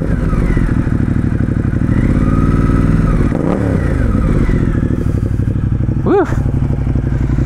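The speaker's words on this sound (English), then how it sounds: "Let's give it a quick little rev." A 2018 Ducati Monster 1200 S engine idling loudly up close, rising into a quick rev and falling back, then a short sharp blip near the end, while a voice whoops once.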